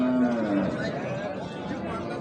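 Cows with calves low at a rain-soaked village cattle market, with one close, drawn-out moo at the start over a steady murmur of voices and crowd chatter.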